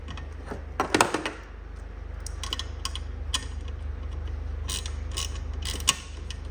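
A ratchet tightens the fuel filter housing on a Nissan Navara D40 2.5 dCi, with close clicking bursts over a steady low hum and no talk.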